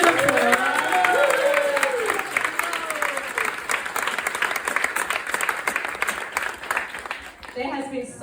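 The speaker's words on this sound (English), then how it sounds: "Round of applause." Audience at the ISKCON Brisbane temple opening breaking into a round of applause, dense clapping and a few cheers that gradually thin out, with a voice speaking over the start.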